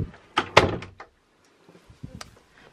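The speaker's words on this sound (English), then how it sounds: "Right, Mr. Teddy Bear, move out the way so we can close the door" An indoor room door swings shut with a solid thunk and a short rattle of the latch, followed by a few faint knocks and shuffles nearby.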